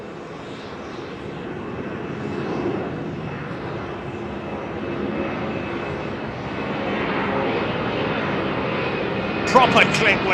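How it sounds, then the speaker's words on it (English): A British Airways Airbus A380 departs over London Heathrow runway 09R. Its broad, distant jet roar slowly builds louder, with voices talking faintly underneath. "is another BA380 coming out, or is he on tow?"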